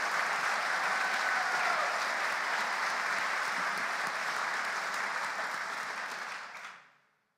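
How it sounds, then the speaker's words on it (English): An audience gives sustained, even applause for a group of student musicians, a full room clapping steadily for several seconds before the sound cuts off abruptly. "Would you please join me in one more round of applause?"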